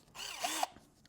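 A cheap cordless power drill set to drill mode whirs briefly for about half a second, a close, steady motor whine that rises and cuts off.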